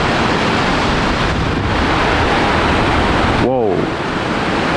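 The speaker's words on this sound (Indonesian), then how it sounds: "kesini cuman deburan-deburan ombak tipis doang" Small waves break gently on the shore of an island at Ujung Kulon, sheltered behind a coral reef at night. The surf makes a loud, steady wash mixed with wind rumble, and a brief chirping sound cuts in near the end.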